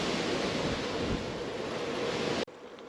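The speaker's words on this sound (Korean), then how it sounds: "바람이 엄청 부네요." Strong wind buffeting the microphone during a bike ride along the Seomjin River, a loud steady roar that cuts out abruptly near the end.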